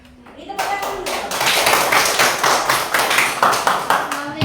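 A classroom group of teachers in training in Palembang breaks into loud, dense hand clapping after a short quiet start, a fast irregular patter that builds and carries on, with voices mixed in underneath.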